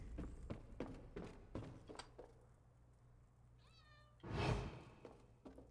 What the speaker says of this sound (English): does anybody else hear the meowing cats?